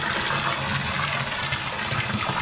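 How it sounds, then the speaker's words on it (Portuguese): Mature red wine gushes and bubbles continuously as it is racked from a 250-litre vat, a dense, steady liquid rush close by with no pauses and no voices. "Quanto mais borbulhar, mais oxigênio o vinho apanha."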